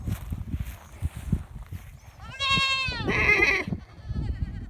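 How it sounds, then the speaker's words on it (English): A herd of wild goats on an Oklahoma family farm lets out a loud, quavering bleat nearby, with rustling and outdoor noise around it. "They got a herd of goats."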